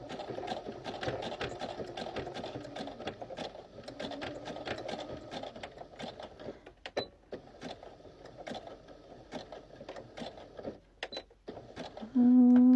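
Sewing machine stitching a jelly roll rug, running forward and backward in short bursts of rapid mechanical chatter, close and fairly loud, with pauses between runs and a louder hum near the end.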